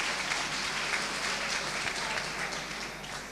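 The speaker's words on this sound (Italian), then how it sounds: "Facciamo anche a lei un applauso." An audience applauds steadily at a Christmas nativity presentation in a prison, the clapping dense and even throughout with a faint voice beneath.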